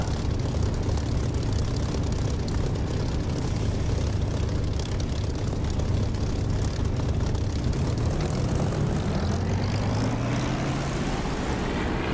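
A Spitfire's piston engine roaring during takeoff in the DCS flight simulator, a loud continuous propeller drone that rises steadily in pitch as the aircraft speeds up, with no talking.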